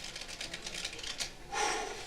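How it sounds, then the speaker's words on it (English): A deck of playing cards gets a single shuffle, a soft rapid riffling patter that swells into a brief brushing burst near the end, close and quiet with no talking. "And I'm going to give it one shuffle and see if I can get some sense of control here."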